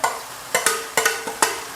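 Shrimp and cut vegetables stir-fry in a hot pan for a salted-egg dish, with a steady sizzle broken by several sharp scraping stirs of the spatula at irregular intervals, close and clear.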